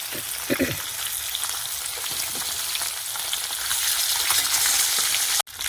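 Two pieces of fish frying in hot oil give a steady, close crackling sizzle that holds throughout, with a brief cutout just before the end.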